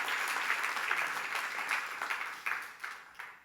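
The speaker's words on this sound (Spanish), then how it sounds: "Dele fuerte ese aplauso al Señor" Church congregation clapping in praise to the Lord, a faint, steady patter of many hands with a few sharper claps standing out toward the end.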